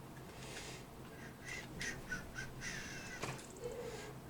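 Geese honk in a farming video game, a series of short nasal calls in irregular bursts, fairly faint against a low background hum, with no voices.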